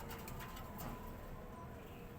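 A Jampang pigeon coos softly and faintly amid background noise, with a few low, muffled calls in a breeder's setting.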